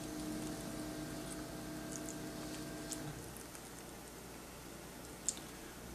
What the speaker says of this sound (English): So what I'm going to do is I'm going to water these well.